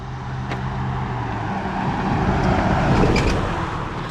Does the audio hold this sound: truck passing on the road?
yes